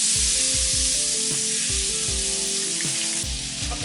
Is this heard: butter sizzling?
yes